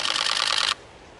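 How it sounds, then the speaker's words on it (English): A Canon 1DX Mark I fires a rapid burst of shutter clicks, a dense, close, loud rattle lasting under a second before cutting off abruptly into quiet. "try and press the shutter gently as you go."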